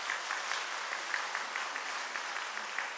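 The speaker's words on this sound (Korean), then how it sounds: "성도 여러분께서는 박수로 환영해 주시기 바랍니다." A church congregation at a Sunday worship service applauds to welcome newly baptized children: steady, even clapping from many hands at moderate volume, with no voices over it.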